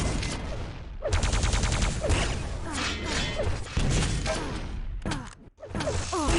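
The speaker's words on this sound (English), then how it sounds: "Relentless rails at the moment." Railgun fire from a CPMA Quake grand final match, a dense volley of sharp repeated shots mixed with crashing impacts and whooshing game effects, loud and continuous without talk.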